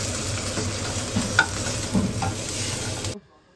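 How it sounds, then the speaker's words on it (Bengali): Coriander leaves coated in batter fry in hot oil, giving a steady, dense sizzle with a few sharper pops and spatters close by; the sound cuts off abruptly near the end. "লম্বা করে ব্যাটারের মধ্যে দাও, ডুবিয়ে তেলে ছেড়ে দাও, এপিট ওপিট ভাজো"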